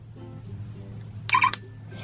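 Low steady background hum, then a short bright electronic toy tone sequence near the end, a playful car-start chime from the toy car keys of a Disney Princess Royal Boutique purse.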